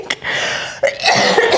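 Chris coughs several times in quick succession, sharp close-up bursts with short breaths between them.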